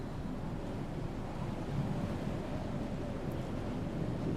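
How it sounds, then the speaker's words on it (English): Strong wind blows hard outdoors, a steady, loud, rushing roar buffeting the microphone throughout, with no voices. "It's really windy."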